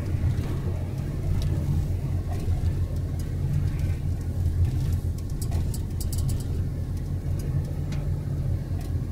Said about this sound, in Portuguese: Tô descendo aqui em oitava marcha. Freio motor acionado, velocidade 50 por hora.